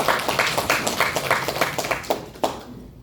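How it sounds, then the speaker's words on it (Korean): A small audience at a business presentation claps in a brisk, fairly close rhythm, the individual hand claps audible as repeated sharp pats that thin out and fade toward the end. "박수 한번 주세요."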